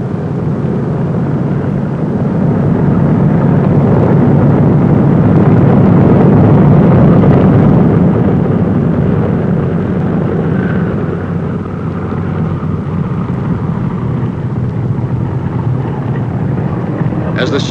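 Piston engines of a Boeing B-29 bomber rumble loudly and steadily while the heavy plane taxis on a runway, a dense droning roar throughout with a voice faintly beneath it.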